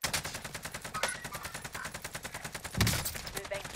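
Rapid automatic gunfire in Call of Duty Warzone, a steady, loud stream of closely spaced shots with a heavier blast partway through and little talk.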